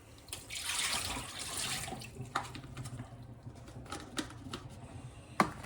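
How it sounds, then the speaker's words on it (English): Water poured out of a salmon package in a brief splashing gush, followed by a few scattered drips and light clicks, quiet and close. "So dump out the water."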